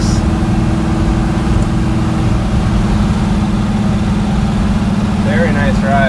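A 1965 Ford Custom Cab truck drives with its engine running, a loud steady low rumble inside the cab, with brief squeaky or chirping noises near the end.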